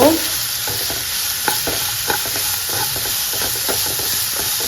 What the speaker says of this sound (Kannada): ಚೆನ್ನಾಗಿ ಹೀಗೆ ಹೀಗೆ ಮಾಡಿ ಫ್ರೈ ಮಾಡಬೇಕು ಗಾಯ್ಸ್ ಓಕೆ ಚೆನ್ನಾಗೆ ಫ್ರೈ ಮಾಡಬೇಕು